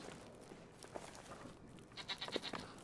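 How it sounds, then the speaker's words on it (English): Mountain goats bleating in the game Goat Simulator, a few short nasal calls close by near the end over a soft steady game background. "Hello, goats."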